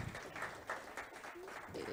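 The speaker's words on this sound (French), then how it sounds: "on t'applaudit dans la salle" Applause rises from an audience in the hall of an e-commerce conference, a modest patter of clapping with a voice talking over it, fairly quiet and somewhat distant.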